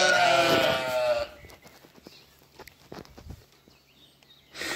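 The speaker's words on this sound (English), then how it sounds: "And the sheep are out here still." A sheep lets out one loud, close bleat on a farm field, followed by soft scattered footsteps and quiet shuffling before another bleat starts at the end.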